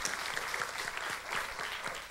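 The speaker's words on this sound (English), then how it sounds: "let's give Randy a round of applause for her extraordinary leadership" Audience applause at a conversation event with the U.S. Education Secretary, a dense, steady clapping from a crowd that is moderately loud and has no talk over it.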